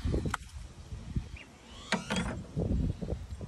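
Plastic engine cover lid being lifted off the top of a 2012 Honda CR-V engine after its four 10 mm bolts are removed: a few close, sharp clicks and knocks, then a short scraping rattle.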